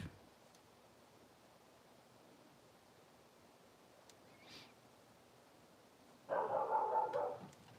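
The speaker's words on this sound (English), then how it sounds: "My dog's barking." A dog barks in a short cluster of loud barks near the end of a quiet indoor stretch, following faint room noise and no talk.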